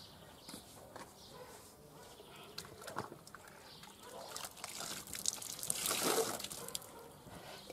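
A bread mailbox on the outside of a house is washed by hand with a small basin of soapy water, giving soft splashing and scrubbing that builds to a louder slosh in the middle, with no talking.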